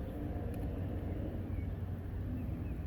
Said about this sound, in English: Excuse the helicopter and the traffic noise.